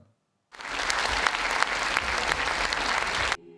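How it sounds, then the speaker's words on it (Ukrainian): Loud, sustained applause fills the large hall of a college of culture and arts for choir soloists after a charity concert, a dense, even wash of many hands starting abruptly and cutting off cleanly. "Ці гучні та затяжні аплодисменти на честь солістів хору Газінського лунали у великій залі коледжу культури і мистецтв"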